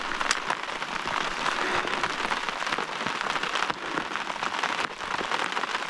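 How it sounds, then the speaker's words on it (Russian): Steady rain patters on surfaces beside a lake where trout fishing is under way, a dense continuous hiss with scattered closer drops tapping over it and no voices. "вот этот дождик зарядил."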